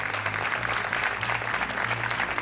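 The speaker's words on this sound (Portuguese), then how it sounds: "Não tiveste ainda 5 segundos de palmas para este rapaz." A studio audience on a Portuguese TV game show applauds a contestant, with dense, steady clapping that stays loud throughout.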